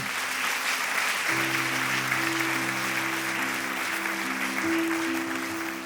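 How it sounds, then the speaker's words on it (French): Church audience applauding, a broad continuous wash of many hands clapping, joined after a moment by sustained organ or keyboard tones underneath. "On peut applaudir Karine"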